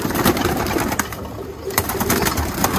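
Roller pigeons coo steadily inside a loft, a dense overlapping murmur of many birds at close range with faint rustling and no talk.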